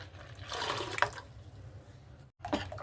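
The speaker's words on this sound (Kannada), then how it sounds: "ಇದಕ್ಕೆ ಈಗ ನಾನು ನೀರು ಹಾಕ್ಕೊಳಿಕತ್ತೀನಿ" Water is poured into a pot for tomato rasam, an uneven splashing gush that swells and drops, breaks off briefly, then resumes for a moment, with no speech.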